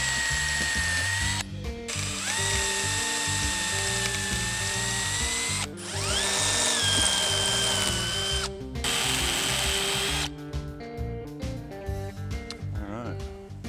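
A power drill whirs and ratchets in repeated bursts as it backs stripped-out screws from the front nose bowl of an abandoned airplane, loud and close, with short pauses between runs and talk over parts of it.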